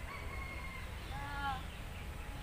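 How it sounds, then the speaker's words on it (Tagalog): Faint bird calls, a couple of drawn-out whistled notes, sounding distant over a low rumbling background. "Parang andun yung ibon. Ang daming ibon guys"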